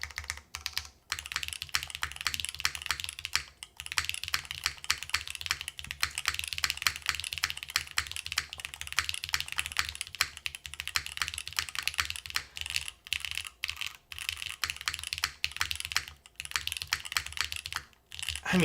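Steady typing on an Osidian TKL V2 stone-cased keyboard fitted with SW Cocoa Black switches: dense, rapid keystroke clacks in close, continuous bursts with short pauses, heard alone and fairly quiet.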